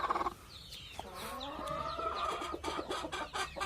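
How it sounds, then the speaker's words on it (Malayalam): A broody native country hen clucks in a run of short, close calls, with other chickens chattering in the background. "തനി നാടൻ കോഴിയാണ്."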